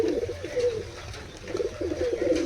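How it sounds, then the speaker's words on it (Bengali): Giribaj pigeons coo continuously inside a loft, with several soft, rolling calls overlapping close by against a steady background. "এই বর্ষার দিনেও কবুতর কত সুন্দর ছটফটে রয়েছে"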